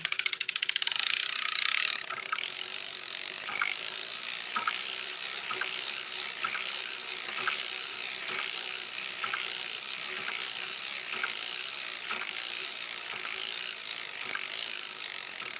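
A hand-cranked sock knitting machine worked through rows with a heel spring fitted, giving a steady series of clicking ratchet ticks over a bright mechanical whir, close and alone with no talk.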